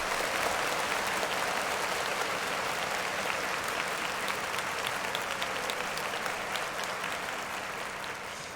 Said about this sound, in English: clap it up for Logic.